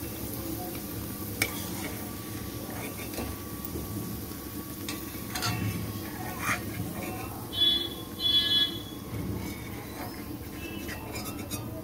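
Garlic cloves fry in hot oil until reddish, a steady close sizzle that runs throughout with a few faint clicks and a brief utensil scrape near the end.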